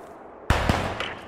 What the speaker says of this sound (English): there are gunshots coming